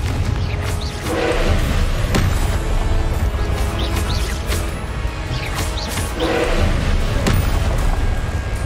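Confringo fire spell explosions in the Hogwarts Legacy video game, heavy booming blasts and crashing impacts over a dense, loud game soundscape throughout.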